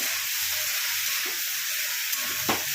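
Mixed vegetables being stirred in a pan for a Bengali panch mishali torkari, with a soft steady sizzle and scraping movements, a sharper clatter near the end, no talking.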